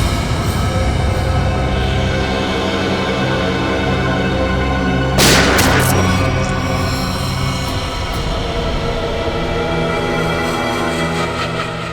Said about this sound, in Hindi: चलाओ गोली, चलाओ गोली